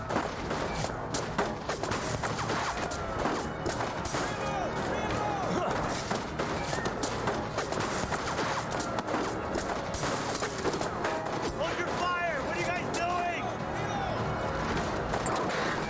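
Gunfire in the 1979 Revolution: Black Friday video game, dense overlapping shots and bursts running through the whole stretch, mixed with a busy, chaotic scene and voices talking over it.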